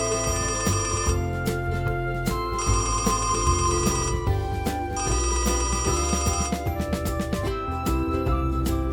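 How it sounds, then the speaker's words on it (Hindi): A telephone rings with a bright, repeating electronic ringtone, loud and close, its tones pulsing in regular bursts over a steady musical backing. "सुबह सुबह टोनी के दोस्त का फ़ोन आ गया।"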